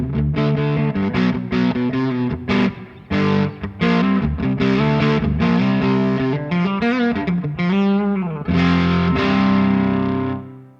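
Distorted electric guitar plays a riff of chords and single notes through the dark channel of an Electro-Harmonix MIG-50 amplifier, loud and thick with a dark, saturated tone.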